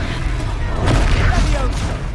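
A Confringo spell blast from the Hogwarts Legacy video game erupts as a loud, dense explosive boom with crackling burst texture, sustained over two seconds amid battle noise and shouted voices.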